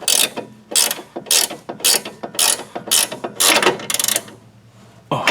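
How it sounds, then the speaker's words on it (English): A torque wrench ratchets down the nut on a front stabilizer bar end link of a 2007 Pontiac G6, heard as a series of loud, close clicking bursts in a quick, uneven rhythm. "we'll put a torque wrench on it and torque it down to our 55 foot-pounds"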